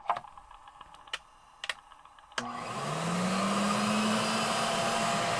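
A few sharp clicks from a Pro-Ject VC-S wet vacuum record cleaning machine, then its motor switches on into a steady, moderately loud whirring drone with a rising whine, close by.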